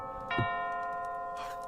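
A bright, multi-tone announcement chime in a video game set at Miskatonic University rings out, its steady harmonic notes sustaining for over a second before a second softer chime tail, with no talk over it.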